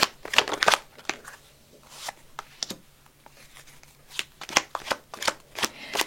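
Tarot cards being shuffled by hand, with quick riffling bursts and softer slides and taps in uneven clusters. The sound is close and clear, with no voice over it.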